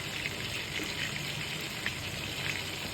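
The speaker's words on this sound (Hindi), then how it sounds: "अब हम सबसे पहले इसमें अनियन ऐड करेंगे" Finely chopped onions hitting hot oil in a pan for keema mash daal, a steady dense sizzle and hiss held evenly throughout, close and with no voices.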